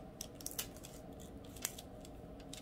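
Scissors snipping through a plastic sheet, a few quiet, crisp close cuts and rustles at irregular intervals.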